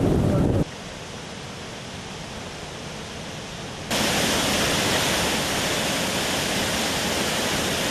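Floodwater roars as a torrent cascading over a washed-out former road in the Val Fortore, Sannio, after a night of destructive flooding. The rushing is loud, dense and continuous, jumping louder partway through.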